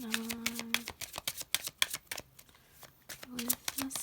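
Tarot cards shuffled by hand in rapid, uneven riffling bursts, close and crisp, with a voice speaking intermittently over the shuffling.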